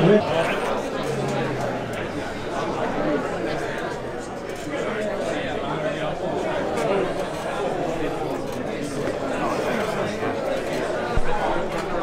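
Steady crowd chatter at an indoor arm wrestling event, Winter Blast 2024, a continuous murmur of many voices with no clear break.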